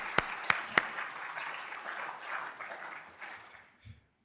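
A lecture audience at an art museum event claps in a round of applause, opening with a few sharp, close claps, then a soft, distant spread of clapping that fades out after about four seconds.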